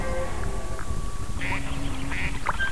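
A young duck quacks a few short, nasal calls over steady background ambience, with no talking.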